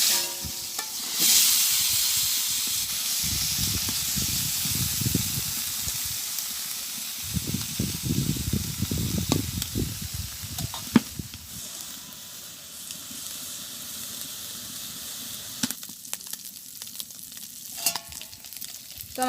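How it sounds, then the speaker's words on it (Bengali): Small fish frying in oil in a wok, a steady close sizzle and hiss with louder bursts of stirring partway through, then settling to a quieter sputter. "বাকি গুঁড়া মাছগুলো ভাজি করব।"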